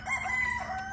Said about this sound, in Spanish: Mechitas Bechas es el gallo y la otra es la esposa